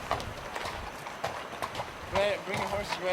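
Horses walking on a mountain trail near Flattop Mountain and Dream Lake, hooves clip-clopping in an uneven rhythm, close and moderately loud, with people talking over them.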